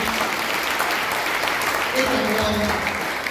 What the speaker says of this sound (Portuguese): Cadê as palmas para Jesus também?